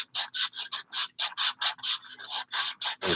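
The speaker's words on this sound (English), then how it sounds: "higher grit sandpaper means more particles per inch. So it ends up being actually smoother" Sandpaper rubbing back and forth over a wooden drop spindle, about fourteen quick rasping strokes in a steady rhythm, close and fairly loud with no talking.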